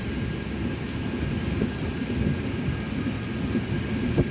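A train rolls slowly through countryside near Malda, a low continuous rumble heard from on board, with faint clunks and a thin steady whine above the drone.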